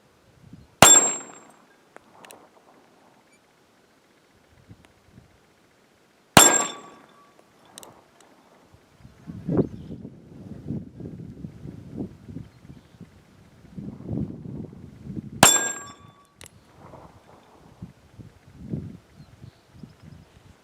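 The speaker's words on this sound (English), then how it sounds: "Getting ready to shoot the steel spinner target with the Bodyguard 380 using the Hornady Critical Defense 90 grain" Three sharp metallic clangs from .380 Bodyguard rounds (Hornady Critical Defense 90 grain FTX) striking a steel spinner target outdoors, spaced several seconds apart, each ringing briefly, with rustling and low clatter between shots.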